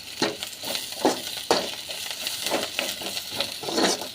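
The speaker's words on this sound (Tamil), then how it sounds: "வெங்காயம் இது எல்லாமே பார்த்திங்கன்னா நல்லா வெண்ணெயில் வதங்கிக்கிட்டோம்" Onions sautéing in butter in a pan for a mint-coriander chutney, a steady close sizzle broken by regular scraping stirs and soft pan clinks, with no one talking.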